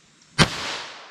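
A single sharp crack from a .22 LR rifle firing Federal Punch ammunition, sudden and loud, then a short reverberant tail fading over about half a second.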